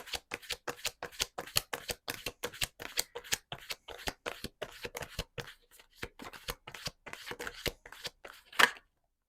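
A deck of tarot cards is shuffled before a reading, giving quick rhythmic riffling slaps and flutters that repeat steadily, close and soft, ending in a final sharper snap.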